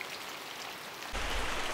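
Rain falls steadily on a village set in a forest, a soft broad hiss that swells noticeably louder partway through, with no voices.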